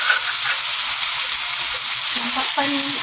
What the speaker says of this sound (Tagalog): importante guys na mag-gisa nyo po ang ating dalag para po pangtanggal po sa langsa